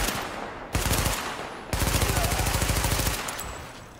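Automatic weapon fire in the shooter The Division, two sustained bursts of rapid shots, loud and close, each ending abruptly, with a short pause between them.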